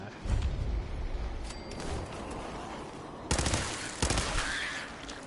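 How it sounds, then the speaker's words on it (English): Automatic gunfire rattles in Fallout 4 on foggy survival difficulty, with bursts near the start and sharper volleys near the end, loud and close, with no talking. "Somebody's already shooting at me."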